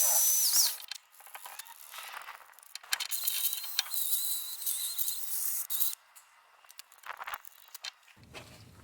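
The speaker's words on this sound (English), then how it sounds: "I've got various different adapters for the drill so I can get into smaller areas" A power drill with a brush adapter cleans a Mercedes brake caliper. A high, steady whir starts and stops several times with gritty scrubbing, then a few short bursts follow after a quiet gap.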